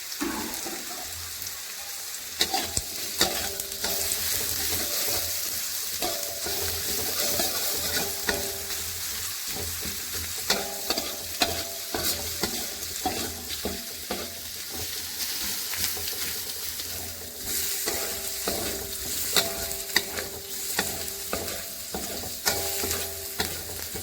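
Shallots and garlic stir-frying in a pan, with a continuous close sizzle and crackle broken by repeated scraping strokes of a spatula, steady throughout, with no voices.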